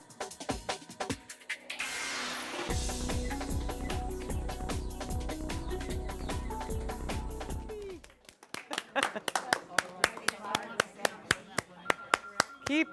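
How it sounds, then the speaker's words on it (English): Studio audience at a televised KVIE art auction breaks into scattered applause, individual claps sharp and fairly close, rising after a stretch of music fades out. "Keep clapping."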